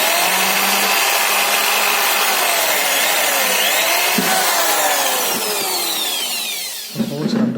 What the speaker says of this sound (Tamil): அந்த பாட்டிலோட மூடியில் ட்ரில்லிங் மிஷின் வச்சு நான் என்ன பண்ணுறேன்